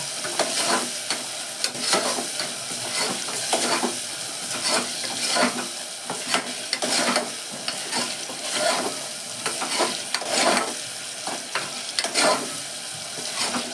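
Small peeled potato pieces fry in oil, making a loud, continuous close sizzle with regular scraping and stirring strokes repeating throughout.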